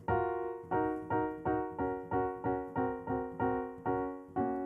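Piano playing Clair de lune as a steady stream of evenly struck repeated chords, about two per second, each decaying before the next, at a soft, uniform level.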